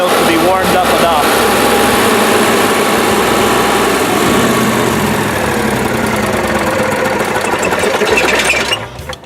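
An Onan 5500 generator runs at a steady, buzzing idle, loud and close, for several seconds before dropping away, with someone talking over it.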